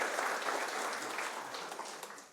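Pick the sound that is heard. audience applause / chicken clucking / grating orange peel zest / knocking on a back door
audience applause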